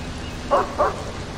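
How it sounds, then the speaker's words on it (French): Two quick dog barks sound a short distance off, spaced about a quarter second apart, over a steady rain-like background hiss. "Ah, j'entends aboyer!"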